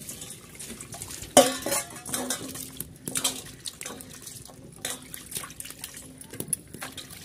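Kabuli chickpeas being washed in a pot outdoors in a village kitchen, with splashing water, sloshing and sharp clanks of metal against the pot in uneven bursts, close and fairly loud.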